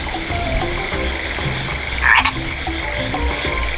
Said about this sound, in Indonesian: Katak jantan akan mengeluarkan suara yang khas sebagai tanda perkawinan yang akan segera dimulai.